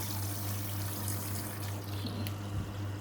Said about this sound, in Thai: สมมุติว่าบิดแล้ว น้ำออกช่องเล็ก